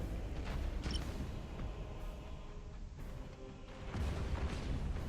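A Nova cannon firing in the space strategy game Battlefleet Gothic Armada, heard as deep booming thuds and rumbling blasts under a dense, noisy battle soundtrack.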